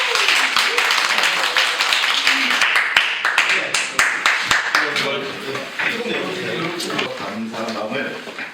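A small gathering claps at the close of a community meeting, sharp individual hand claps ringing out in a lively, uneven patter that gradually thins as voices begin talking over it.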